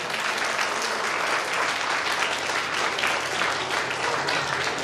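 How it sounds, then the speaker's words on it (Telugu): A crowd at a taekwondo belt grading event in Nizamabad claps loudly, giving a dense, steady burst of applause that stays even throughout with no voices heard. "అందరూ ఒకసారి గట్టిగా చప్పట్లు."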